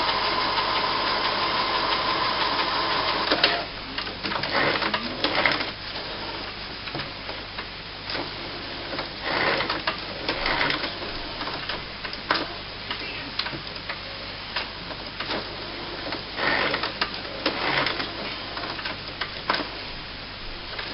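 An inkjet printer runs a long head clean cycle, whirring, ticking and clicking in irregular close bursts, with a low steady hum underneath.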